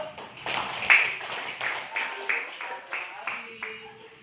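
Students in a classroom clap together in a rhythmic pattern of about ten distinct, evenly spaced beats, close and fairly loud, with some voices mixed in.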